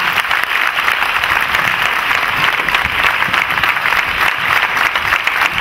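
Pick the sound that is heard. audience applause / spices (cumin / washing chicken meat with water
audience applause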